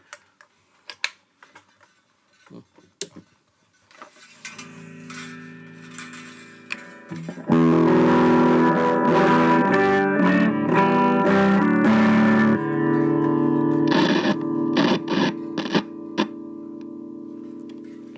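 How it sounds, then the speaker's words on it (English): An electric guitar played through an amp and effects on a workbench gives a few picked notes and ticks, then a loud sustained distorted chord that rings for several seconds before dying into scattered muted strums. "let's see now what we can get with some guitar tones plugged in. See what it sounds like."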